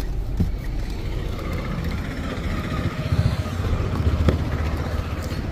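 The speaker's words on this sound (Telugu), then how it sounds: "రివర్స్ గేర్ లో ఉన్నప్పుడు ఓన్లీ క్లచ్ రిలీజ్ చేస్తూ ఉన్నప్పుడు మూమెంట్ వెనక్కి వెళ్తున్నాం" Car rolling slowly backward in reverse gear as the clutch is released without throttle, a soft low engine and drivetrain rumble with a few light knocks and a short swell near the end.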